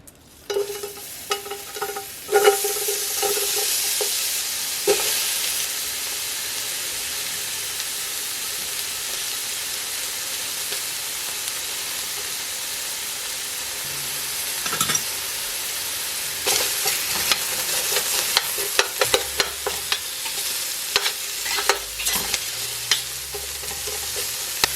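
Chopped onions and garlic dropped into hot oil for cabbage soup, a loud continuous sizzle with scraping stir strokes and occasional utensil knocks throughout.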